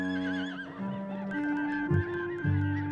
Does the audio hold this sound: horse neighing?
yes